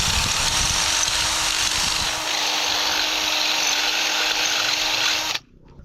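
A power drill with a 3/8 bit bores into aluminum while a 1969 Jeep CJ5 is fitted with lights, a loud continuous high whine that holds steady for about five seconds, then stops abruptly.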